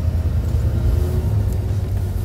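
A van drives along with a continuous, close low rumble of engine and road noise, steady and unbroken throughout, with no voices.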